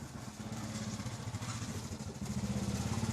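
A Benelli BN600 motorcycle fitted with a modified gear shifter idles close by, its engine giving an even, pulsing low rumble throughout with no talking.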